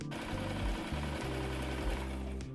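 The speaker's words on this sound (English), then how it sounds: "I sewed a straight stitch all along the pinned area." A sewing machine runs a straight stitch along a pinned seam on a dress, a continuous close mechanical whir with a rapid needle rhythm that shifts slightly in pitch as it goes, and no one talking.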